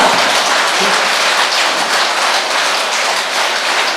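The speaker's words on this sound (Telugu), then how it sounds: "రమణ మహర్షి క్షేత్రానికి గట్టిగా క్లాప్స్ కొడదాం." A large audience claps loudly and steadily at a pyramid meditation centre celebration in Gudivada, a dense continuous applause with no pauses.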